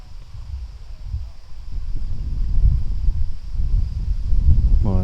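Strong wind buffets an outdoor disc golf course during a tournament round, low rumbling gusts that swell and ease, heavy and close, with no talk.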